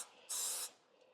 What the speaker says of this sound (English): I'm gonna spray these with some olive oil just to hold my rub on.